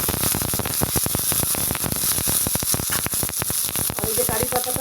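Cumin seeds sizzle as a tempering in hot oil, making a loud, close, continuous hiss packed with rapid crackles and pops over a few seconds.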